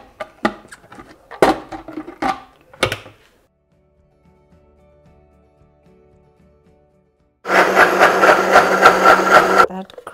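A blender blitzes hummus made with Greek yogurt and chickpea liquid in a loud, steady burst of about two seconds near the end, after clattering kitchen handling and a quiet pause.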